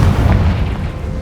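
The Confringo spell in Hogwarts Legacy lands as a deep, booming fiery blast, a single heavy low-end explosion that rumbles briefly and fades.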